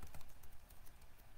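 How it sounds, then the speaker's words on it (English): Someone types on a computer keyboard, producing a quick, uneven patter of soft key clicks close by with no voices. "I'm trying to think and type at the same time."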